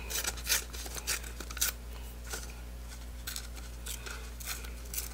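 Scissors snip a small bull shape out of craft material, several close, crisp cuts coming in quick bursts over a low steady hum, with no talking.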